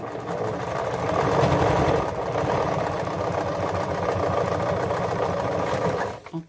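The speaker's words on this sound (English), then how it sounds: "You can sew over pins, but I try not to because my machine is old." An old sewing machine stitching fabric squares runs in a steady, loud mechanical whir with a rapid rhythmic chatter for about six seconds, then slows and stops with a brief final clunk.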